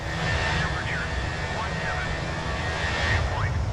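Fenix A320 airliner engines in Microsoft Flight Simulator give a continuous, fairly loud jet hum with a faint whine throughout, and brief radio-like chirps drift over the steady roar.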